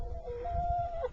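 Hens in a backyard coop during a February snowstorm in New Jersey give a short, close run of soft clucks and a drawn-out tonal call, with no talking.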